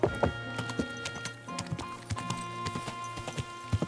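Steady clip-clop of horse hooves in the video game Kingdom Come: Deliverance II, a brisk rhythmic clatter of hoofbeats up close with a faint musical tone underneath.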